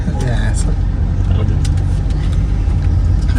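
A car starts and drives off, its engine running steadily with a low rumble throughout, and voices are heard talking over it.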